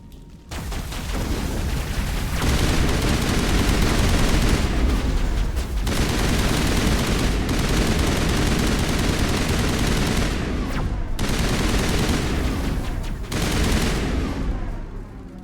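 Sustained, dense gunfire in the video game Mass Effect, loud, continuous volleys of rapid shots with brief breaks lasting around fifteen seconds, mixed with booming impacts.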